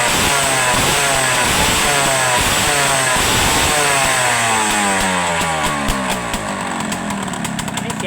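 Honda Tena motorcycle engine with a cracked exhaust pipe, running loud and close and rough, its pitch rising and falling as the throttle is blipped throughout.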